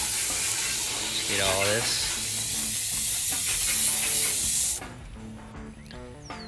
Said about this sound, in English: I'm just gonna lightly rinse it real quick.